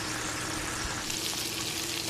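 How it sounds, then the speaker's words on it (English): Steady, close sizzling and frying of ground beef browning in a pan, a dense continuous crackle with no talk over it. "Alright, so we've browned and drained the hamburger meat."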